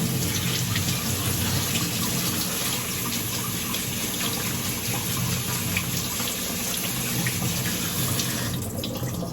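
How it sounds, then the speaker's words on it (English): Tap water runs steadily over green olives in a bowl, a continuous close splashing and gushing from a faucet that holds at an even level for several seconds before tapering slightly at the end. "And I will give them a little rinse."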